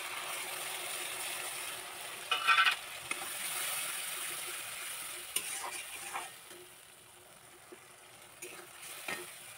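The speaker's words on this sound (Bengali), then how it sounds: "মশলাটা কষিয়ে নেব মশলা দিয়ে তেল ছেড়ে দিয়েছে" Spice paste of fried onion and tomato with salt and turmeric, cooking in released oil in a pan, gives a soft, steady sizzle broken by scraping stirs and a few brief clatters, fairly quiet throughout.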